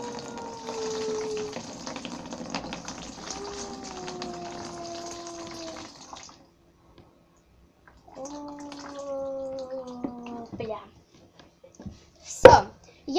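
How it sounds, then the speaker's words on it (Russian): Unneeded water is poured out of a container into dirty water in a kitchen while making microwave chips, a steady trickling stream in two bursts separated by a pause, ending with a sharp clatter. "Все, выливаем ненужную воду."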